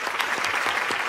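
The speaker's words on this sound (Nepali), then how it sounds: "जोरदार तालीले स्वागत गरौँ उदयपुरका कवि कवि ऋषिबहादुर राईलाई" A theatre audience at a televised poetry competition gives a poet a warm welcome with steady, full applause throughout.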